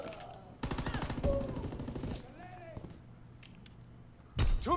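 Rapid automatic gunfire from a video game bursts loudly in a dense rattling volley, then gives way to quieter game sounds and scattered effects before another sharp loud burst at the end.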